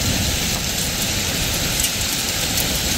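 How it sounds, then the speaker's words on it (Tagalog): Heavy summer downpour with small hail in Canada hisses as a dense, loud, unbroken wash of rain striking surfaces, steady throughout with no voices. "pero ang lakas ng buhos ng ulan."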